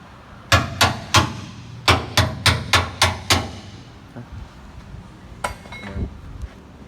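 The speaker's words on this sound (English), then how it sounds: "You can just go like that up and hammer it in." A hammer drives a suspension bracket into place on a 2009–2018 RAM 1500 during a drop-kit install. About ten sharp metallic blows land in a quick, even rhythm, then a few lighter taps follow.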